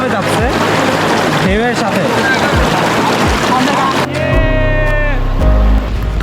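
Boats move across river waves at Sada Pathor in Sylhet, giving a steady rush of water and a droning motor, with people talking over it throughout.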